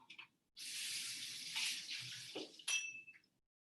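A glass is rinsed under a running tap while mixing a vodka cocktail: a steady close splash of water for about two seconds, then a clink of glass as the flow stops.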